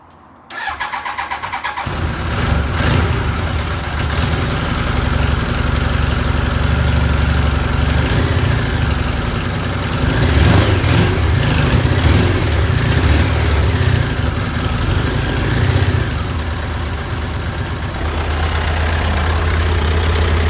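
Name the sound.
Triumph Daytona T300 motorcycle engine running on prime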